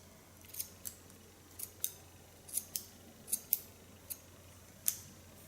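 Scissors snipping hair during an asymmetric clipper-cut style: about a dozen crisp, close metallic snips in uneven bursts over a quiet background, without talk.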